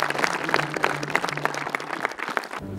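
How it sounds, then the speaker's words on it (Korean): A crowd gathered at a baseball team's spring training camp applauds, steady hand-clapping from a small group, moderately loud and fairly close, tapering off after a few seconds. "더 큰 배를 타고 가는데 타러 가는데 박수 한번 주세요."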